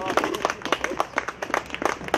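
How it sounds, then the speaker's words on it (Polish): Small audience at a tennis league final and season-closing ceremony gives a brief round of clapping, individual claps distinct and uneven in rhythm, fairly quiet and close. "Jeszcze raz brawa dla Andrzeja."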